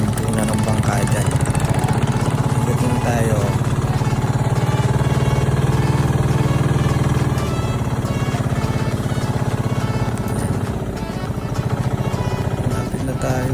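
A boat's engine in Macabebe, Pampanga drones steadily as the boat slows toward a stop, easing slightly in loudness, with people talking over it.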